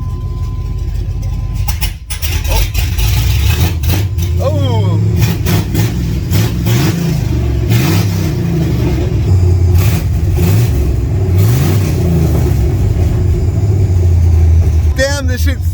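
A tuned truck engine with open exhaust and no muffler fitted, idling in a low, steady rumble with repeated revs swelling and falling, loud and close, with some speech over it.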